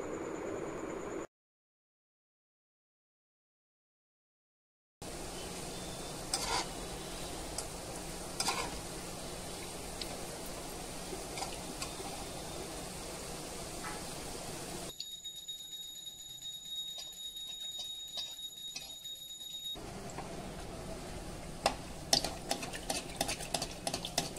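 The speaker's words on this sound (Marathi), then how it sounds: "कमी जास्त आचेवरती आपल्याला तळून घ्यायचे आहेत मोदक" Modaks filled with jaggery and desiccated coconut fry in hot oil, giving a steady, close sizzle with faint stirring and utensil clinks; a short silent gap comes early and the hiss keeps going to the end.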